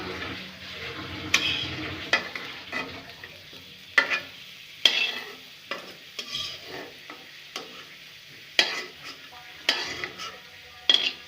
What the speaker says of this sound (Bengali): এখন তো এখন আলুগুলো উঠে ফেলানো হচ্ছে